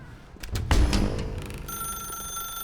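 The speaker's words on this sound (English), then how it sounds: "Pick up the phone, Stanley." An old telephone rings in The Stanley Parable, a few sharp bell-like rings that settle into a sustained electronic ringing tone, heard alone and fairly loud.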